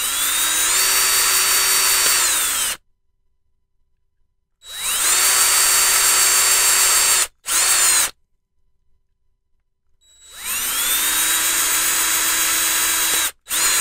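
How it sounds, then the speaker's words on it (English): A power drill whines loudly in three long bursts separated by silences, with two short blips between, the pitch dipping slightly as each run ends, drilling holes in a plastic SIG Sauer P365 grip module. "So we're going to take and drill out these 5 holes."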